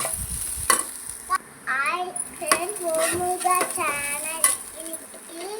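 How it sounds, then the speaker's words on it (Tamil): Mustard seeds, fenugreek, chana dal, urad dal, onion, green chili and coriander sauté in oil for kuzhi paniyaram, giving a steady sizzle with scraping and clinking from stirring, while someone talks nearby. "எண்ணெய் ஊற்றி கடுகு போட்டு வெந்தயம் போட்டு நல்ல பருப்பு உளுந்தம் பருப்பு வெங்காயம் பச்சை மிளகாய் கொத்தமல்லி நல்லா போட்டு வதக்கிக்கலாம்"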